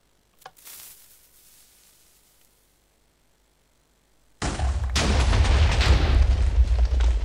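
TNT blocks detonating in a Minecraft 12w21a snapshot world: a faint early pop, then from about four seconds a loud, sustained rumbling burst of overlapping explosions that carries to the end, with no voices.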